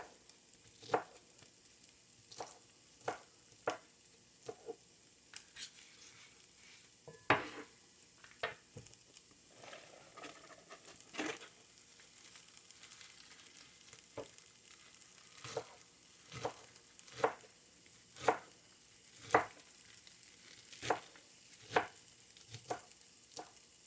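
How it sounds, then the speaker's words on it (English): Knife chopping fresh spinach into strips on a cutting board, with sharp, evenly spaced chops that come in runs and short pauses, close and clear with no talking. "just cut up some fresh spinach"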